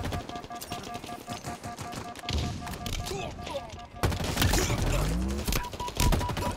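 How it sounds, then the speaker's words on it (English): Gunfire in the video game Halo Infinite during a Team Slayer match crackles in rapid bursts and sustained automatic volleys, with a heavy boom near the middle, under intermittent talk from a player. "Still hear some gunshots back here."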